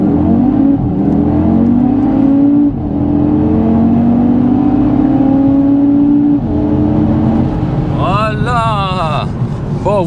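An Audi TT RS Iconic Edition five-cylinder sports car accelerating hard in dynamic mode, its engine note climbing loudly through several gear changes, then dipping briefly before revving again.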